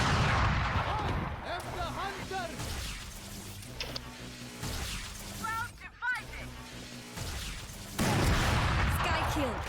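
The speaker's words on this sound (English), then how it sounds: "Why was Sage shooting them?" Gunfire in the video game Valorant, heard as repeated bursts of shots and impacts of varying loudness through the clip, with game effects mixed in and people talking over it.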